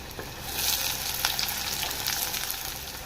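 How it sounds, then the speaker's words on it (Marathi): Onion frying in a pan for bitter gourd sabzi, making a dense, continuous sizzle that swells after the first moments and holds close and steady with faint stirring, no voices. "त्यानंतर इथे मी कांदा टाकत आहे"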